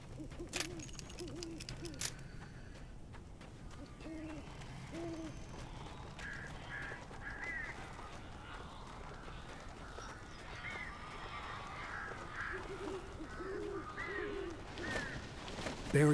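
Crows cawing in the Alan Wake video game, repeated harsh calls in small bursts over a low, murky ambient background, moderately faint and fairly distant.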